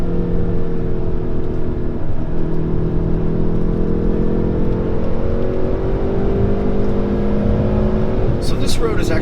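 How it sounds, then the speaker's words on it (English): A 2019 Hyundai Veloster N, 275 hp, driving with a steady loud engine drone and exhaust burble, with a few sharp pops near the end. "those pops out back sound awesome"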